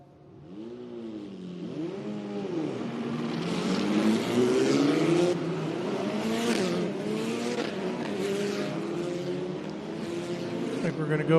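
FR Americas open-wheel race cars at Canadian Tire Motorsport Park during a Labour Day weekend sprint, several engines revving up and down in rising and falling sweeps as the field passes, loud and fairly close, with an announcer's voice over the top.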